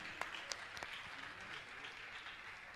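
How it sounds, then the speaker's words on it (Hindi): Faint, steady applause from a crowd at a Jain religious discourse, a soft continuous patter of clapping with a few sharper claps standing out near the start. "जोरदार ताली बजाओ उनके लिए"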